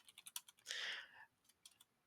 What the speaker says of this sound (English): what you do is just type your text